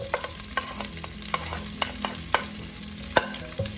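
Onions and celery sauté in a pot for Filipino chicken noodle soup, a quiet steady sizzle punctuated by sharp clinks and scrapes of a utensil stirring against the pot.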